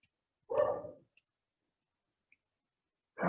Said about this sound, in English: the dogs are going nuts outside.